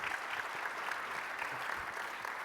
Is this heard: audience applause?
yes